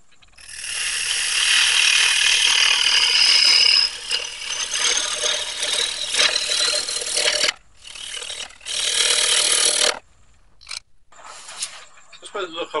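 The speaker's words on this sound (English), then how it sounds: "So that when I cut, my finger holding the chisel can just follow straight along there," A chisel cuts wood turning on a lathe for a funeral urn, giving a harsh continuous scraping chatter that breaks off and restarts in several bursts before the spinning piece falls quiet.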